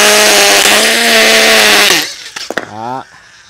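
A 12V cordless hammer drill bores into a cast concrete brick with a loud, harsh, buzzing roar for about two seconds, then stops amid a few clatters and a short burst of rattling.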